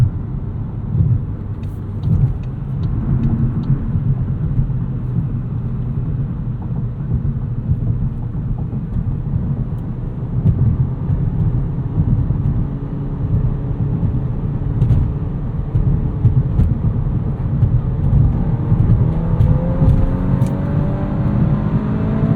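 A 2024 Volkswagen Golf R MK8 with a six-speed manual accelerates hard onto a highway at night in sport mode, its engine droning loud and steady with rising tones climbing toward the end.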